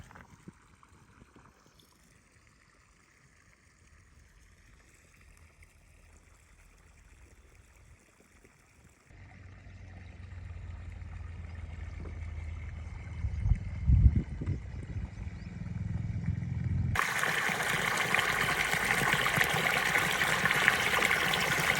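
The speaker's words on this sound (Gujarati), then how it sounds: "જો અહીંયા પાણી ચાલુ છે." Quiet outdoor ambience on a farm gives way to water flowing in an irrigation channel that grows louder, ending in a strong, steady rush of water nearby.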